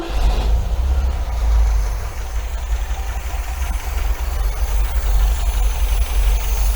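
An MGB car engine idles after a carburettor and timing tune-up, a steady low rumble close by that holds a constant, even note throughout, with no talk.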